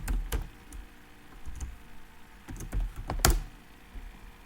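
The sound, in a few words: typing a password on a computer keyboard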